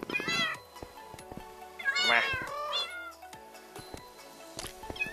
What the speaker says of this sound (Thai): โอ้โหน้องแมว